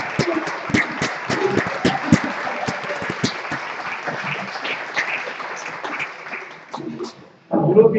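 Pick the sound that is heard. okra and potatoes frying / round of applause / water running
round of applause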